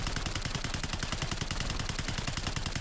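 Rapid sustained automatic fire from a PP-919 submachine gun in Black Ops 6, held steady under recoil control; a dense, loud, even stream of close shots running unbroken throughout.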